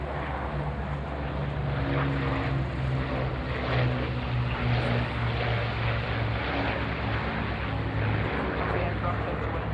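Lancaster propeller bomber flying at an air show, a steady loud droning engine roar with a low pulsing hum throughout, a voice speaking over it.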